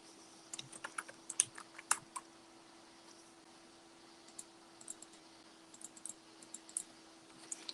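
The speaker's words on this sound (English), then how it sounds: "So we're going to type her name in." Light, quick keystrokes on a computer keyboard while a name is entered for an electronic business card, soft clicks in small irregular bursts with pauses, alone in a quiet room.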